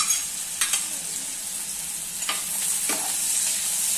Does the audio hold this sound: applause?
no